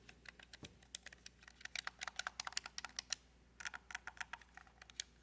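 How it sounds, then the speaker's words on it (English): Clicky buttons on a Google Stadia game controller pressed in quick irregular bursts, sharp close clicks with brief pauses, no talking. "Yeah, all the buttons are very clicky."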